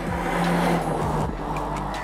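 A Honda Civic with a 1.6-litre diesel engine and six-speed manual gearbox drives along, its steady engine drone and road noise close and continuous, with no talking.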